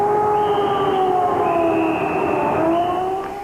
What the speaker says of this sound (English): Tonight, ominously, they were testing the air raid sirens here.